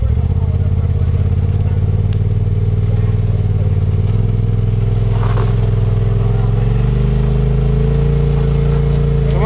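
Off-road vehicle engine idling and pulling forward on a rocky trail in a steady low drone that rises slightly in pitch, with occasional clatter of the vehicle over rock and voices in the background.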